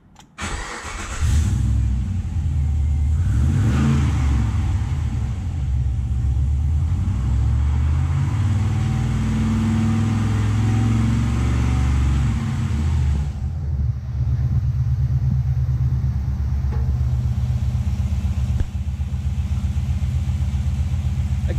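A Chevrolet L98 6-litre V8 mounted in a Nissan Patrol cranks, fires and settles into a loud, rumbling idle, with repeated throttle blips swelling the deep roar up close.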